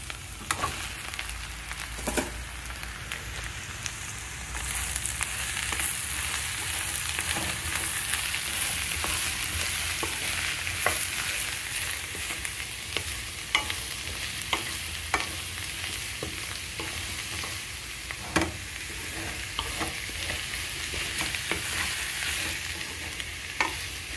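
Sliced mushrooms frying with onions in a pan for mushroom curry, a steady bright sizzle throughout with repeated scraping and stirring clicks from a spoon, no talk.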